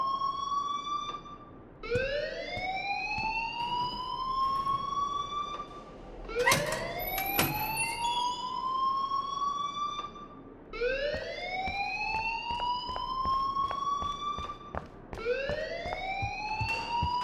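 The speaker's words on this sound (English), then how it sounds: "please turn off that alarm since that's your job" Fire alarm in the video game Life is Strange, a loud, repeating electronic whoop that rises in pitch and sweeps up again every few seconds in a steady cycle, with no voices over it.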